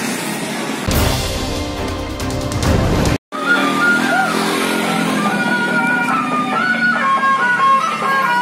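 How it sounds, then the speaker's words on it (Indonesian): Motorcycle ride on a street, a steady engine drone and road rumble heard up close, briefly cut off and then continuing with a higher-pitched engine note. "Ada lagi naik motor nih teman-teman"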